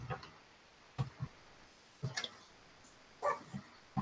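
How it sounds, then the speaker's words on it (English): A dog gives several short barks spaced about a second apart, fairly close and moderately loud against a quiet room. "And now the dog's barking."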